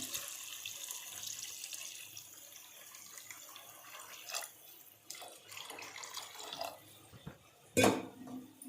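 Water pours into a pot in several uneven bursts, quiet and close, ending with a louder clatter of the vessel, as about three glasses of water go in for chicken biryani rice.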